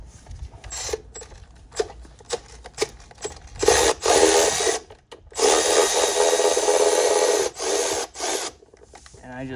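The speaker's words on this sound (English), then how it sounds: "this new Milwaukee extended head ratchet" Ratcheting and rasping with a Milwaukee extended-head ratchet backing out a 10 mm bolt on a 2001–2005 Honda D17 engine, with bursts of clicking followed by a longer steady ratchet run, close and moderately loud.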